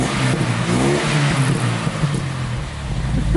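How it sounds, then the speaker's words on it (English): A project car's engine revs hard through its exhaust, a loud, steady roar that rises and falls close by, with possible backfire pops mixed into the blare. "The backfires too out of the exhaust. Yeah, can you give some gas?"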